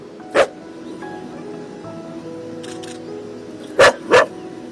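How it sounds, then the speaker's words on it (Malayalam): A dog barks loudly toward a mountain, three sharp close barks: one early, then a quick pair near the end, over a low steady background hum. "സർവനാശം വിതച്ച മലയെ നോക്കി ഉറക്കെ കുരയ്ക്കും"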